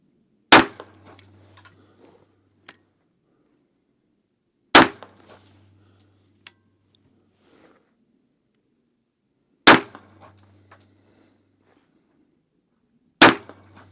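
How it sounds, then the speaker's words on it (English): Four sharp 9mm pistol shots from an HK VP9 firing 115-grain Barnes TAC-XPD rounds, each a loud crack spaced several seconds apart with a brief ring-out and near silence between. "I'm shooting these with the HK VP9."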